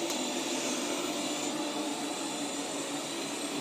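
An ILIFE V20 robot vacuum cleaner runs indoors while cleaning around chair legs and curtains, giving a steady, unbroken motor whir with a broad hiss that stays level throughout, with no voices.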